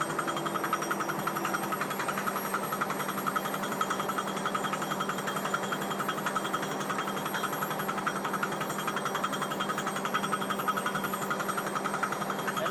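Steady, continuous mechanical drilling noise from a hydraulic hammer drill drilling rock, truck-mounted on a Kenworth T880, with a rapid hammering pulse and engine drone, unbroken throughout and fairly close.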